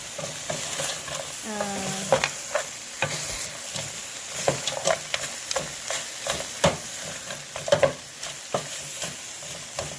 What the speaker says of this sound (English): I'm going to let it cook for a little while as I am mixing my mutton meat